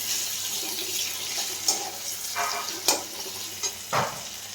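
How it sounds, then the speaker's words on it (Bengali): Onion frying to golden brown in a pan for a Bengali fish curry, a steady low sizzle with a few brief stirring clatters and scrapes, close by and without talk. "মাছের জন্য পেঁয়াজটা আমি ভাজছি"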